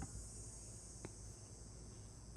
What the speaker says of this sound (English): the bugs are like buzzing so loudly